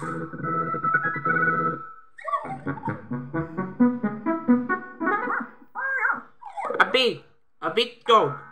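A person makes a string of deep woofs and growly barks with their voice, imitating a big dog in short, rhythmic bursts.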